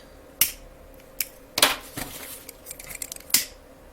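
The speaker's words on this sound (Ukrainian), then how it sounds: "наші ножниці, обрізаємо" Sharp scissors snip through satin ribbon several times while a flower and ladybug are made by hand, each cut a crisp, close click, with three or four distinct snips spread across a quiet background.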